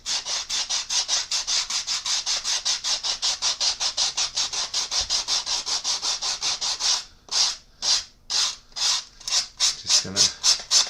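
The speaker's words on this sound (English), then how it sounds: "we'll use this this fingernail file" A fingernail file rasps back and forth along the edge of a scale model's wing support, steady rapid strokes that slow into separate spaced passes near the end, close and clear with no talking.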